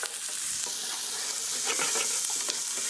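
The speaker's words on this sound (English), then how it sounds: "a couple of jalapeno or serrano peppers, a couple of chilies. Okay, give that a little stir" Jalapeno and serrano peppers with ginger and scallions sizzle in a hot pan as they are stirred, bright crackling frying with a few scraping spatula strokes, up close and without voices.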